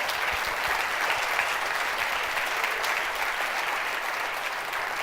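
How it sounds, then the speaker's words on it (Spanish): Loud, dense applause from a church audience at a Spanish-language sermon, a steady wash of many clapping hands filling the whole stretch without a break. "Eso se merece un aplauso fuerte"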